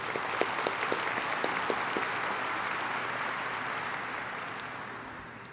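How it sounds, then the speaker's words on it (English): Crowd applause fills a convention center ballroom at a port's annual address, dense sustained clapping with a few sharp claps early on, holding steady before tapering off near the end. "Let's give them another round of applause."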